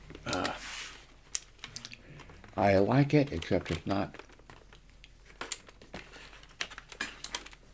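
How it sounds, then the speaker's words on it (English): Typing on a DOS-style computer keyboard: a close run of sharp key clicks, scattered through the clip, with someone speaking over part of it. "here's the DOS keyboard"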